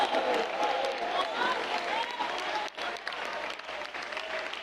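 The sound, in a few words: congregation clapping hands in church service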